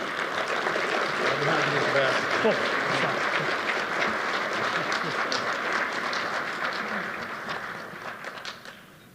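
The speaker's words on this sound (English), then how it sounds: "Let's give a big round of applause to Chris Perez." A luncheon crowd gives a big round of applause for a speaker coming on stage, steady dense clapping that tapers off toward the end, with a little talk beneath.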